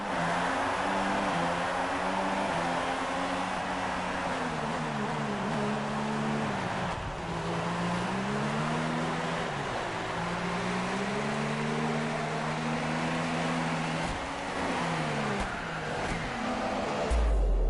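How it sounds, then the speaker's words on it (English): A car engine hums at a steady idle with wavering tonal pitch, then cuts off abruptly near the end, leaving near silence. "Engine off, engine off."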